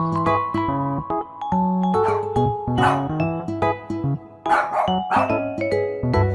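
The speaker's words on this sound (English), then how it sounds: "dog," A dog lets out a few short, scattered barks that sit partly buried under loud, continuous background music.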